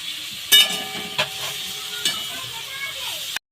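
Chopped tomatoes fry with salt in a pan with onion and garlic for a tangra fish curry, a steady sizzle broken by a few sharp spatula clinks and scrapes as they are stirred.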